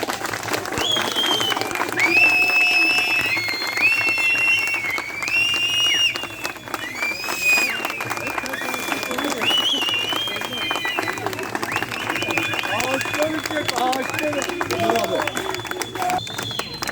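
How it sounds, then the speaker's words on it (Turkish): A crowd at an outdoor protest rally claps together for a sustained stretch, dense and loud, mixed with whistles, shouts and general babble. "Arkadaşlar alkış grubu tutuyoruz hep beraber"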